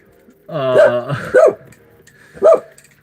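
A dog barks three times at close range, two quick barks followed by a pause and a third, with a faint steady hum behind them.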